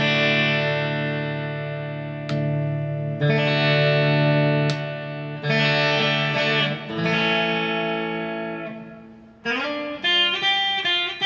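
An electric guitar with Westcreek pickups, played through a compressor pedal, plays sustained single notes and chords that ring out smoothly and evenly, alone, with a few sharp plucked attacks between phrases.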